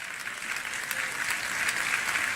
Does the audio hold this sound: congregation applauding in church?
yes